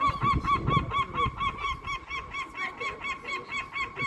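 Geese honking repeatedly in a steady, rhythmic chorus while being fed at a marine biological research centre, fairly close, with some scuffling and movement noise underneath early on.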